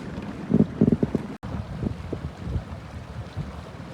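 A river boat idles in the current on a southeast Alaska river, with a low motor rumble, wind buffeting the microphone and water lapping nearby, with a brief dropout partway through.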